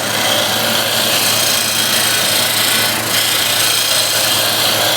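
Continuous broadband scraping hiss of a woodturning gouge cutting scrap wood spinning on a lathe, loud and close, steady with one brief dip midway and no talk.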